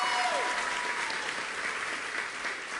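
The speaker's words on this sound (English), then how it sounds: "Can we give them a tremendous round of applause?" Large audience of young people at a Maryland youth leadership gathering breaking into sustained applause, dense steady clapping filling the space from start to finish.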